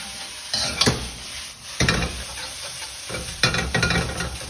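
Vegetable Singapore fried rice stir-frying in a wok as Shaoxing wine goes in: steady sizzle with loud intermittent scraping and tossing strokes, several sharp bursts separated by brief quieter moments.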